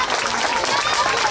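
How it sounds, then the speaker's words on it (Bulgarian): Audience applause at a children's magic show, a dense, even wash of clapping from a crowd filling the room close by, with voices mixed in underneath. "Благодаря ви за аплодисментите!"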